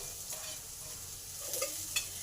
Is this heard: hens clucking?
no